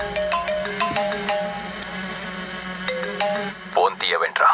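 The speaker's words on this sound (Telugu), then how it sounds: "ఫోన్ తీయవేంట్రా?" A phone ringtone in a Telugu movie action scene, a bright melodic electronic tone repeating in short phrases, with a voice breaking in at the end.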